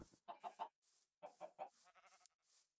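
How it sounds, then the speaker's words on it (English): Chickens in a video game cluck in quick bursts of three or four notes, separated by brief pauses, quiet and fairly close, with no talking. "Chickens? Chickens."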